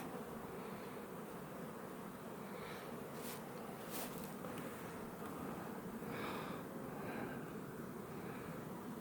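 A wasp buzzes faintly and steadily close by, a thin drone over a constant background hiss with no talking.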